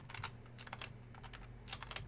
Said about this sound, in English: I know me typing is really great for the audio.